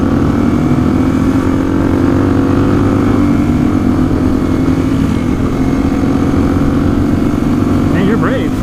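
A Honda XR400 dirt bike engine drones steadily up close for the whole stretch, its pitch rising and falling as the rider throttles up, with a short rising whine near the end and some talk mixed in.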